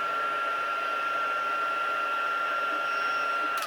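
Hair dryer blowing on freshly painted paper clips, a steady close whoosh with a constant high whine running unbroken throughout.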